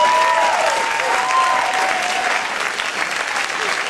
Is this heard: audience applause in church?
yes